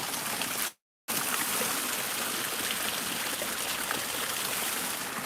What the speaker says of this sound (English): this is a spring, right? It's either a spring or a busted water pipe.